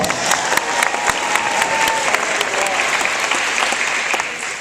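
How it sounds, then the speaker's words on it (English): A lecture audience gives a warm round of applause for a volunteer, the speaker's daughter Alexia, with steady, even clapping from a sizable crowd throughout. "Give her a round of applause."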